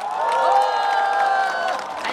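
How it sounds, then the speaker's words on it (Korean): A large crowd at Lee Jae-myung's Chungju presidential campaign rally cheers and applauds loudly, a sustained roar of voices and clapping that holds for about two seconds before easing slightly. "박수 부탁드립니다."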